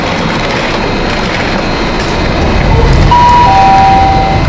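Gautrain passenger train running from Park Street station toward Johannesburg's OR Tambo International Airport, a steady loud rumble of the moving carriage with rising noise and brief high wheel squeals near the end.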